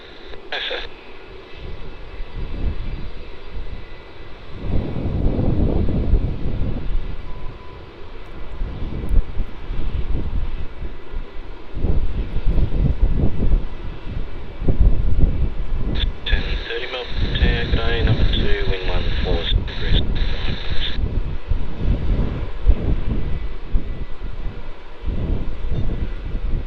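A plane landing on runway 16 at Melbourne Airport: a loud, sustained jet engine roar that swells and holds, with wind buffeting the microphone and a voice talking intermittently over it.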